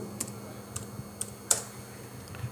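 Keys tapped on a computer keyboard while SQL insert commands are typed on a Windows machine, a handful of irregular, fairly quiet clicks with one firmer stroke near the middle.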